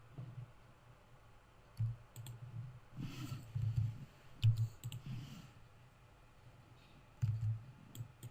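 Computer mouse clicking while working with a brush tool in Adobe Photoshop CS6, a few faint, sharp clicks scattered irregularly over quiet background noise.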